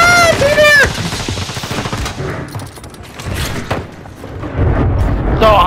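Loud gunfire in the Zombie Royale game mode, irregular bursts of shots with booming impacts over several seconds, mixed with other game sounds and a brief voice-like tone at the start.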